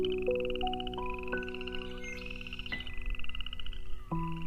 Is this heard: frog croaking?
yes